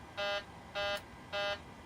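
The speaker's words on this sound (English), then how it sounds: "I'm presuming that beeping is going to go away." Aircraft cockpit caution warning beeping in a small plane during start-up, three evenly spaced, loud buzzy tonal beeps, each roughly a quarter second long, sounding alone against faint background noise.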